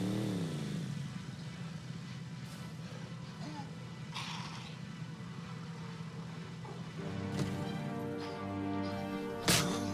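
A four-wheeler ATV engine in the SCUM survival game drones and revs steadily, rising in pitch toward the end, with a few sharp knocks and a hard thud at the close.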